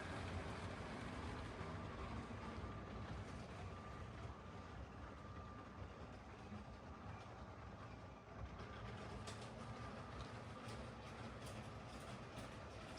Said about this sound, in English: let's start the train up and see how it works